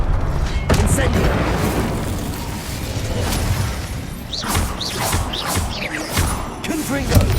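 Incendio fire spell cast in Hogwarts Legacy, a burst of booming, crackling impacts among other spell effects and game noise, with dense layered bangs filling the clip and short whooshing sweeps near the end.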